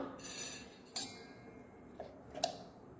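A spoon clinks against a bowl as butter is added to a brown sugar wheat biscuit mixture, giving a few faint, sharp taps spaced about a second apart in a quiet kitchen.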